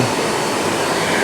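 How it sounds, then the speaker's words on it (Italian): A Miele Blizzard vacuum cleaner running at maximum power gives a loud, continuous broadband whoosh and whine, steady and close up, with no voices. "il rumore alla potenza massima"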